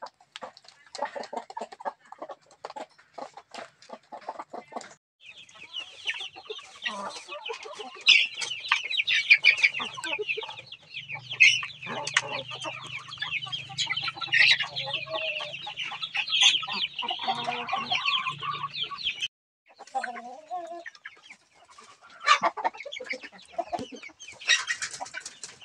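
Native chickens cluck steadily while eating a feed mix of corn, sweet potato and commercial feed, many birds near and busy together, with a low hum through the middle and brief pauses near the end.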